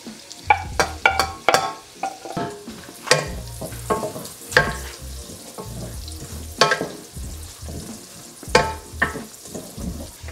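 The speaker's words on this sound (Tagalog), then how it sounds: "Lagay ko na tong garlic." Garlic sautéing with softened onion in a pan over medium heat for pork binagoongan, with steady sizzling broken by frequent scraping stirs of a utensil, close and moderately loud, no talking.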